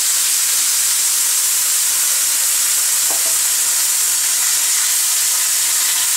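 Coconut cream added to a hot pan for Thai green curry with beef, a loud steady sizzle and hiss filling the whole stretch, with faint stirring underneath and no talk.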